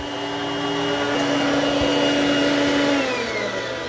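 An iRobot Roomba Combo 10 Max robot vacuum runs with a loud, steady whirring roar and a faint shifting whine, close by, with no voices over it.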